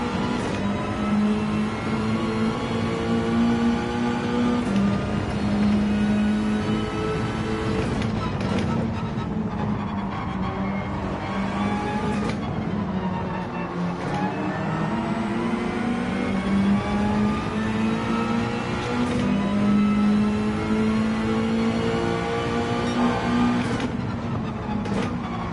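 A race car engine in Gran Turismo 7 drones loud and steady with repeated rev climbs and drops through gear changes, while a voice talks over it.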